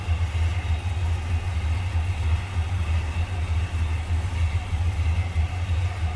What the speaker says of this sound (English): There's a V8.